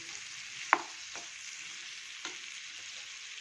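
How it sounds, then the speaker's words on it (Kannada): Brinjal pieces frying gently on a low flame with coriander and curry leaves, a soft steady sizzle with two sharp clacks of a spatula against the pan. "ನೋಡಿ, ಹೀಗೆ ಫ್ರೈ ಸಿಮ್ಮಲ್ಲೇ ಮಾಡಬೇಕು, ಫ್ರೈ ಆಗೋಗುತ್ತೆ ಬೇಗ"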